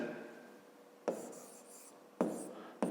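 Pen or pencil writing a measurement on paper during a fifth-grade geometry exercise, a soft continuous scratching with three sharper taps or strokes, close and quiet, no talking.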